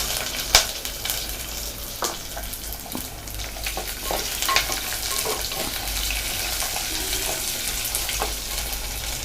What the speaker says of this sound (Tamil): சோம்பு, வெந்தயம் இதை வந்து நல்லா நம்ம தாளித்து விட்டுக்கலாம்.